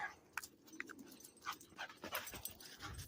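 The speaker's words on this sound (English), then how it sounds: "What are you doing, dog?" A lively female dog pants and whimpers with quick yips nearby, short breathy bursts recurring irregularly and fairly faint, no talk over it.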